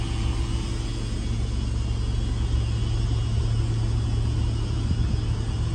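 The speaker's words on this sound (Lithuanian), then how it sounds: "dabar dirba variklių krūva" Many car engines idling together at a car auction and scrapyard, a loud, steady low rumble and drone with no breaks, continuous throughout.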